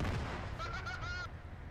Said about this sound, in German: mein Gerät explodiert!